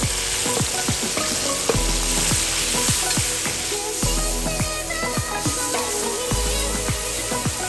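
Tomatoes hitting a pan of frying garlic give a loud, steady sizzle with a dense crackle throughout and repeated scraping strokes as the pan is stirred.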